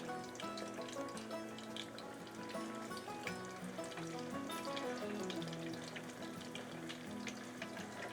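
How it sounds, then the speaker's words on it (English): A potato cake patty sizzles and crackles steadily in hot grease in a pan, a continuous close frying hiss with small pops, no speech. "once the grease is nice and hot, we're gonna take it and just gonna set the ball in the pan"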